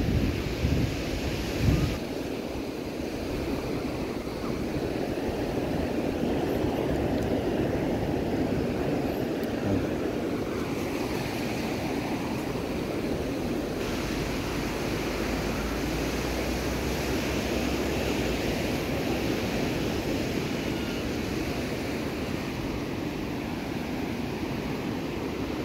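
Sea waves at Binmaley Beach wash and rumble continuously along the shore, mixed with steady wind buffeting the microphone, with no voices.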